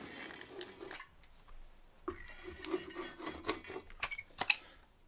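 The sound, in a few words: spreading glue onto a wooden backer board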